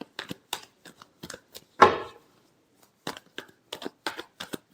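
Tarot cards being shuffled by hand, a series of crisp riffles and flicks in short bursts with one longer cascading riffle in the middle, close and clear in a quiet room.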